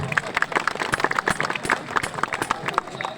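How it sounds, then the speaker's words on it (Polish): Audience applause for the first semifinalist at an individual fighting tournament final, dense rapid clapping from a crowd with a voice speaking over it. "Proszę państwa, brawa dla pierwszego półfinalisty."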